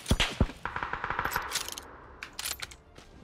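Rapid gunfire in PUBG on the Erangel map, bursts of automatic shots crackling in quick succession with a few sharper, louder reports, mixed with faint in-game clatter.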